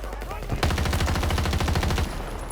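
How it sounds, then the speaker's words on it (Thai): An M16A3 rifle fires in the video game Battlefield 2042, a loud rapid burst of evenly spaced shots lasting about one and a half seconds over steady game background noise. "ผมว่าปืนมันค่อนข้างลั่นเร็วมากนะ"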